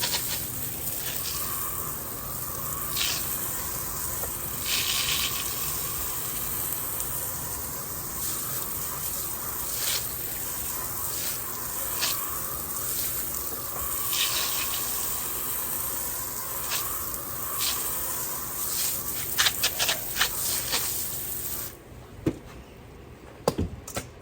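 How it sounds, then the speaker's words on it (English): A spray of water rinsing big, knobby tires, heard as a steady close hiss that rises and falls in short bursts over a long stretch, stopping abruptly near the end. "And actually now I can really just spray the whole thing"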